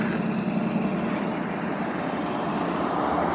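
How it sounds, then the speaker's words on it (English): A police helicopter's steady drone hangs in the air throughout an active shooter drill at a high school, a low continuous rotor rumble with no voices, fairly loud and unchanging. "I believe that is a police officer helicopter"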